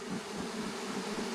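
Honeybees buzz steadily and densely inside a queen-rearing cell builder hive, a close continuous hum with no talking.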